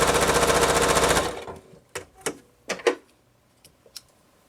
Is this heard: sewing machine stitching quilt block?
yes